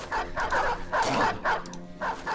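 Dogs bark in a video game, a run of about four quick, fairly loud yapping barks close together, with no talk over them.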